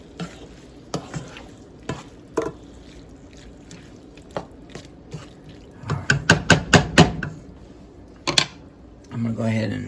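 Foraged wild chanterelle mushrooms frying in a pan, stirred with repeated sharp scraping and tapping strokes over a low sizzle, a quick run of clatters in the middle and a voice at the end.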